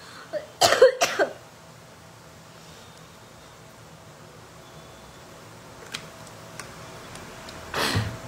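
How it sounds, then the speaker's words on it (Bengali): A dry cough after a fever, two sharp close coughs at the start, then quiet with faint ticking, and another harsh cough burst at the end. "এই কাশিটা না সারছেই না, জ্বর হওয়ার পর পুরো ড্রাই কাশি হয়ে গেছে"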